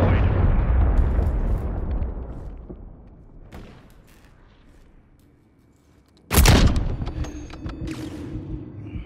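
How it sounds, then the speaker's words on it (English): A cruise missile strike in Call of Duty MW3 team deathmatch: a rumbling blast decays over several seconds, then a second sharp, loud explosion bursts and trails off into lingering rumble, with no talk over it. "Friendly cruise missile deployed."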